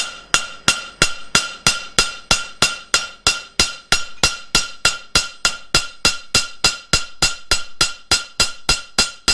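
A forged steel napkin ring, held from underneath, is peened with the flat of a hammer: some thirty bright metallic strikes ring out close and alone in a quick, steady rhythm.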